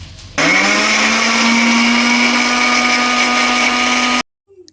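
An electric blender grinds a spice paste of whole cumin, turmeric powder and salt, a loud steady high whirring motor running about four seconds before cutting off abruptly.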